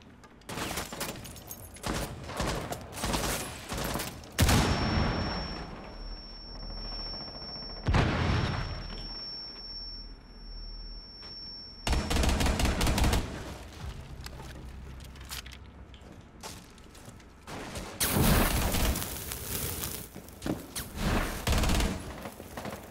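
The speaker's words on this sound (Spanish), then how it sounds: "Cuidado, que suelen pegar tiros al principio." Bursts of rapid gunfire from Rainbow Six Siege come in several loud volleys, with quieter stretches of ambient game sound between them.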